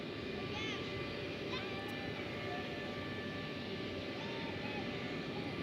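An Airbus A380 taxiing at DFW International Airport, a steady, distant engine roar with a faint high whine held at an even level throughout.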